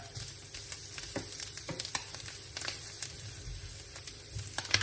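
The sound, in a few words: bacon sizzling and being stirred in pan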